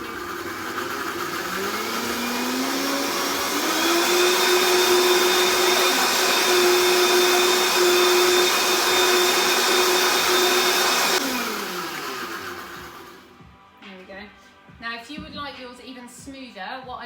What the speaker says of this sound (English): Whiz that around on your blender for a bit so it gets more ground down